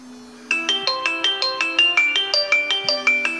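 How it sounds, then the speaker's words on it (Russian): A water-damaged Xiaomi Redmi 3s smartphone rings with an incoming call, playing a loud, close, repeating melodic ringtone of bright pulsing tones that starts abruptly and continues without speech. "Ну что, вызов идет."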